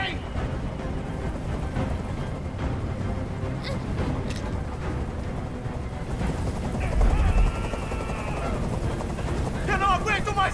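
In the video game Detroit: Become Human, a helicopter hovers nearby with a steady rotor drone, joined by bursts of game noise and rising electronic tones.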